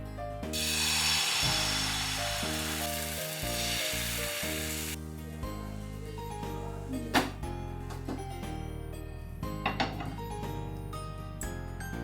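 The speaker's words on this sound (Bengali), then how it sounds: "পাটিসাপটাটা রোল করার পর একটু ভালো করে এপিরিপিট করে সেঁকে নিচ্ছি খুব সামান্য তেল ব্রাশ করে" Carrot-filled patishapta rolls, brushed with a little oil, sizzle loudly in a pan over the first few seconds, then the frying fades under a low steady hum with a few sharp clinks of utensils.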